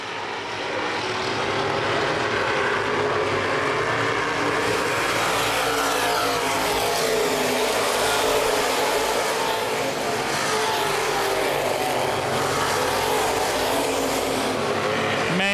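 Loud, continuous engine roar from several open-wheel modified race cars on a dirt track at Baer Field Speedway, rising and falling as they pass close by, with no voices.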